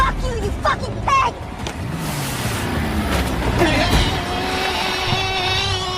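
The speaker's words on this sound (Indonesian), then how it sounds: "Kate pun menabrakkan mobil itu ke manusia babi" Car engine revving and accelerating as it rams into a pig-masked man in a film, a rising motor roar under shouting voices and tense film sound.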